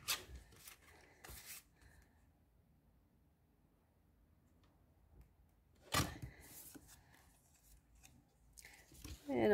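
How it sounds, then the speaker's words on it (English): A paper trimmer slices through designer series paper in a few short, crisp cutting strokes, quiet and close, separated by stretches of near silence. "grab your trimmer and trim up your words"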